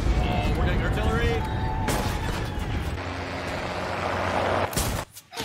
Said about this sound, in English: Oh, we're getting artillery.